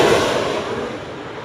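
An FGM-148 Javelin missile firing, a sharp blast followed by a loud, sustained roaring rush that slowly fades over about a second and a half, with no voices.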